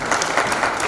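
Audience clapping at a community celebration of Australia Day and Indian Republic Day, a short burst of dense, steady applause close by.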